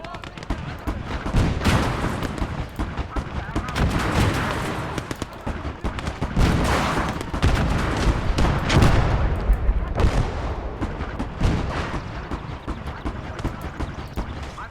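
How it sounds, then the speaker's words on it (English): Continuous booming artillery and gunfire from a World War II tank battle in the strategy game Legion of the Damned, with dense overlapping blasts and crackling shots rolling on without pause. "T-34, get that under artillery fire."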